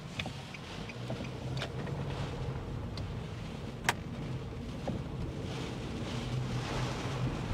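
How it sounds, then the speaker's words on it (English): Gusty wind roars across the microphone during a Midwest storm chase, a steady broad rumble with a few small knocks and one sharp tap, and no voices. "Gusty winds coming right to left, going south to north, wrapping around this right now."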